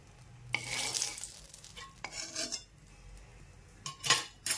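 Cumin and mustard seeds hit hot oil for Khandeshi-style brinjal bharit, giving bursts of crackling sizzle, with spoon scrapes and clinks against the pan between them. No one speaks.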